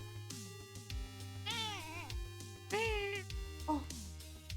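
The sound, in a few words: cat meowing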